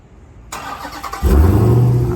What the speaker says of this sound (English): About to start it up real quick.